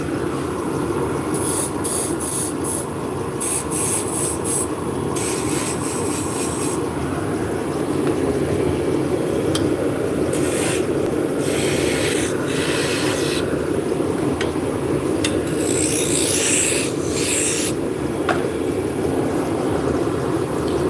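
A scroll saw cuts steadily with a continuous buzzing, rasping drone, its blade chattering in short bursts over the constant motor hum, close and unbroken.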